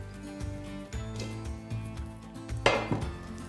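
A ladle knocks and scrapes inside a pot of pot-au-feu broth while it is served, with soft clatter throughout and one brighter clink near the end.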